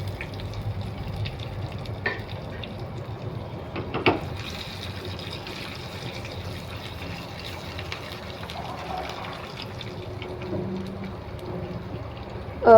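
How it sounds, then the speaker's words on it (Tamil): Sun-dried vegetables (vathal) fry in hot oil in a pan for Tamil vathal kuzhambu, giving a steady soft sizzle and bubbling throughout with a couple of brief clinks, close and alone without talk. "வத்தல் வந்து நல்லா எண்ணெயிலே பொரியட்டும்"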